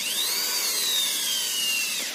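An iBell electric screwdriver spins anticlockwise with a steady high motor whine and a slight pitch sag near the end, heard up close with no talking.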